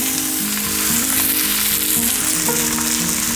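Lo mein noodles dropped into a hot pan, a loud, continuous close sizzle and crackle of frying with a little stirring, no talk.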